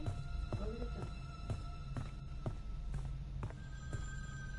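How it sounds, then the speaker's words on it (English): A telephone ringing inside the virtual cabin in Friday the 13th: The Game, a repeating electronic ring pulsing at steady intervals over a low constant game hum, with no talking. "So the phone is ringing now."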